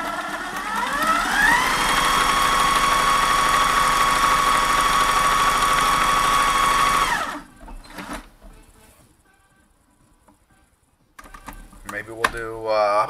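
A Kenmore sewing machine fitted with a Q-foot runs a multi-point zigzag stitch in one steady, loud mechanical whir for about seven seconds, then stops, leaving quieter handling noises and clicks afterward.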